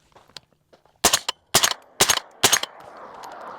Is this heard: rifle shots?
yes